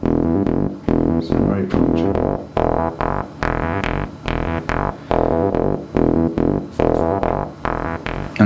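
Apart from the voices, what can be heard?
low frequency boosted and swept on mixing desk EQ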